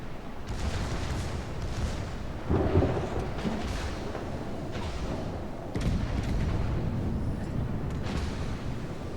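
Heavy naval guns from the forward turrets of the battleship Nagato fire in World of Warships, deep rumbling booms rolling out at about 2.5 and 5.8 seconds over a steady low roar of sea and engine noise.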